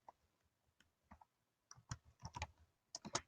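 Quiet clicking on a computer keyboard, a few scattered taps at first, then a quicker run of keystrokes entering a search, close and soft with no voices.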